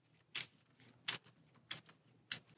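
Cards from a starting deck in the DC Deckbuilding Game Rebirth being shuffled by hand, four short crisp riffling bursts at a steady pace, close and fairly quiet with no talk.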